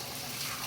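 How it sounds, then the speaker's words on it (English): Boiling water is poured into a 2-quart glass pitcher, giving a brief, steady gushing splash of liquid that is fairly soft and close. "Pour boiling water in here."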